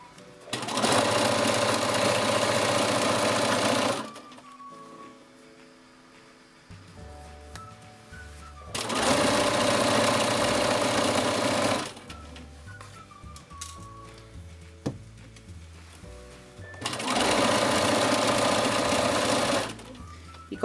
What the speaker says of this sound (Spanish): estoy cosiendo todo el rato estirando, pero con una puntada normal